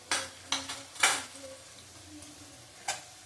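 A spoon scrapes and stirs masala frying in a pan with Kashmiri chili powder for a milk chicken dish, a few sharp scraping strokes over a faint sizzle, with irregular gaps between them.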